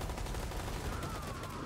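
Gunfire in Rainbow Six Extraction, a dense sustained burst of shots filling the clip at steady loudness, with no clear pauses between reports.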